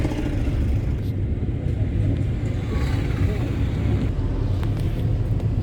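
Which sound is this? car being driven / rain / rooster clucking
car being driven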